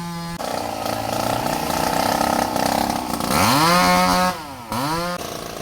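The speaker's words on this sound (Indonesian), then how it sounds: "Untuk menyingkirkan batang pohon tersebut, petugas gabungan dikerahkan dengan menggunakan gergaji mesin." Chainsaw cutting a fallen tree trunk, the engine revving and bogging as it bites into the wood, loud and close, with a short pause before it revs up again.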